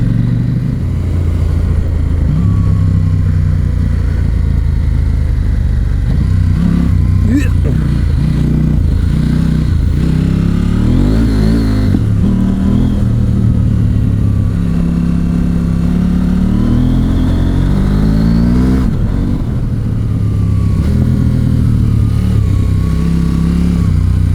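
KTM 790 Adventure R motorcycle ridden in rally mode over wet, slippery terrain, its engine droning loud and close with rising and falling revs and throttle blips, wind noise and a rider talking over it.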